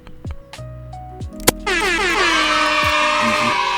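Blaring air horn sound effect dropped into a gaming stream, loud and close, with several sharp blasts leading into a sustained, wavering horn burst that fills the rest of the moment.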